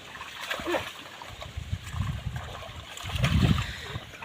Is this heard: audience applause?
no